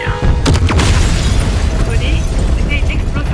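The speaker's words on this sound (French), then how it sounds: "c'était une explosion gamma?" A gamma explosion inside a tower in the video game Marvel Midnight Suns booms loudly and abruptly, followed by sustained rumbling debris and faint ringing tones, with no talk over it.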